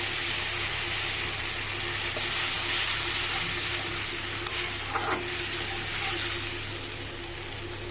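Water is poured into chicken satay sauce frying in a pan, producing a steady, loud sizzle and bubbling that continues throughout, with a faint low hum beneath.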